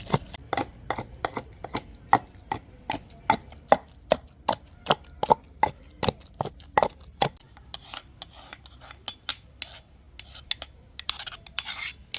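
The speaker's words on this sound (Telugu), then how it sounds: "ముందు పచ్చిమిరకాయలు అయితే నూరేసుకోవాలంటండి చక్కగా నూరుకొని తర్వాత పుదీనా కొత్తిమీర ఇదంతా వేసుకోవాలి" Green chillies pounded on a grinding stone for chutney, a steady run of sharp, evenly spaced thuds followed by a looser stretch of scraping and rubbing, close and with no talking.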